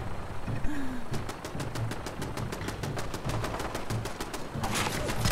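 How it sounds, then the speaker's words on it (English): Enemies in Fallout 4 open fire in rapid automatic bursts, with a fast, even rhythm of gunshots repeating at mid distance and a heavier volley near the end. "they're just shooting at me"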